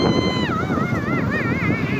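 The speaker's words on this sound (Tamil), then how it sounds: "மாசா போயிட்டு இருக்கு வண்டி." A Suzuki Burgman scooter rides along a road, with steady wind rush and engine drone and a wavering whine that rises and falls, loud and close throughout.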